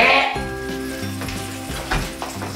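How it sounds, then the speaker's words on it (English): Norwegian pancakes and bacon fry in a pan with a steady close sizzle, while an electronic tone hums faintly underneath. "Flip the pancake and flip the bacon."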